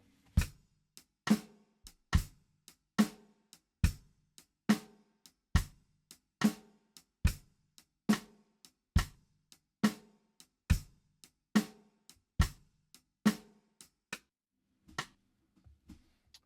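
A drum kit plays a steady shuffle groove, sharp accented hits alternating with softer strokes in a swinging rhythm, fairly quiet and with no voices.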